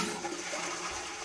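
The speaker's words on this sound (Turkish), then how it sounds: "Ya sifonu çek uzaktan işte ya." A toilet flushes in the video game Internet Cafe Simulator 2 with a short, steady rush of water heard alone.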